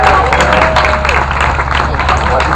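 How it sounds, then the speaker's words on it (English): Crowd at an alligator park show applauding a volunteer, steady loud clapping and cheering from a sizeable audience, with a whistle-like tone briefly audible early on. "give her a big round of applause"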